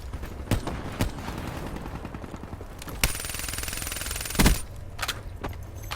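Gunfire in a Call of Duty: Black Ops 3 multiplayer match: sharp single shots around 0.5 and 1 s, then a dense rapid burst from about 3 to 4.6 s over steady game noise and music.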